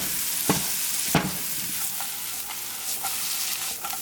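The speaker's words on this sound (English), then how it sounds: "you can go ahead and add back your mushroom sauce. And then you want to give this a good little mix." Potato gnocchi being stirred with mushroom sauce in a hot pan, a steady loud sizzle punctuated by a couple of sharp spoon scrapes and lighter stirring sounds, close with no talking.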